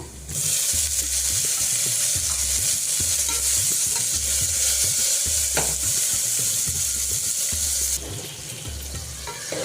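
Three medium tomatoes fry in a hot pan for Rayalaseema fenugreek dal, a loud steady hiss of sizzling oil with a regular scraping stir repeating about every second, close up and without speech.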